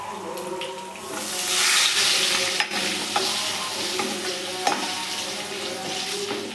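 Garlic paste and turmeric for tomato charu fry in a pan, sizzling steadily up close while a utensil stirs and scrapes with a few sharp clinks.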